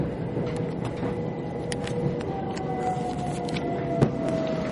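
A train rumbles steadily as it pulls into Bedford Station, heard from on board, with a faint squealing tone drawn out over the continuous wheel-and-track noise.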